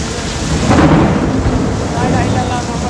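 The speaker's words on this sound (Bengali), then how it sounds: "দেখতে পাচ্ছেন মেঘের ডাক" A dense roar of heavy rainfall carries a low thunder rumble that swells early and then fades back into the steady downpour. No voices are heard.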